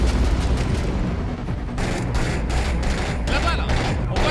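Dense gunfire in the realistic first-person shooter 6 Days in Fallujah, sustained heavy shots and bursts with booming impacts throughout, loud and continuous, with voices talking underneath.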